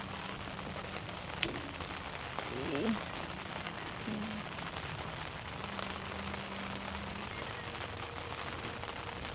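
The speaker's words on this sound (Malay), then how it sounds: "Sekarang ni hujan semula." Rain patters steadily on a camping dome tent pitched in an orchard campsite, a soft continuous hiss throughout, while a person speaks briefly nearby.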